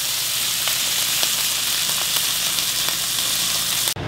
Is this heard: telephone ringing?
no